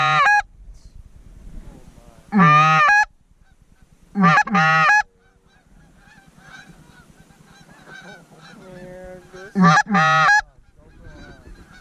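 A large flock of geese honks overhead above a winter wheat field during a Minnesota goose hunt, loud nasal calls coming in repeated bursts with softer distant honking between, and a little quiet talk.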